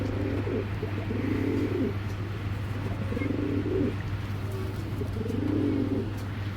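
A pair of Giribaz pigeons coo in repeated low, throaty phrases close by, three or four bursts rising and falling over a steady background hum.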